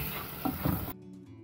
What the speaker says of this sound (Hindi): अदरक लहसुन को भूनते हुए 2 मिनट हो चुके हैं